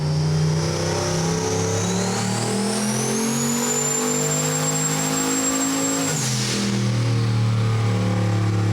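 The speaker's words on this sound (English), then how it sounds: "Let's see how the patched together Mustang does on its second." A patched-together Ford Mustang revs hard on a chassis dyno, its loud engine climbing steadily in pitch through a long pull before cutting off abruptly, then settling into a lower rumble.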